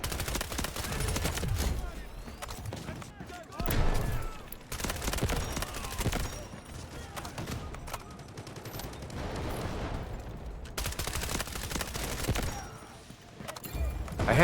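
Rapid bursts of SR3M submachine gun fire in the shooter game Delta Force, loud and close, with short volleys and brief pauses repeating through the clip over a busy background.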